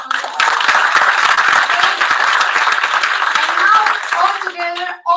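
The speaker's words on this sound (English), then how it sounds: "a big clap for her" Loud, steady applause from a crowd at an awards ceremony fills the space, a dense wash of clapping that continues without a break before fading at the end.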